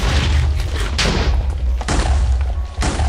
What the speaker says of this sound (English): Kaboom. Blow those up, please.